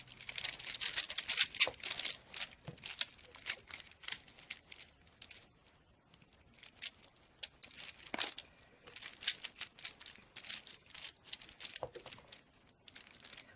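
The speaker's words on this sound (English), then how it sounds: "I'm gonna shuffle them like this in my hand." Small rune stones shuffled and rattled in cupped hands, giving a steady run of quiet clicking and rustling taps that come in irregular bursts with no talking.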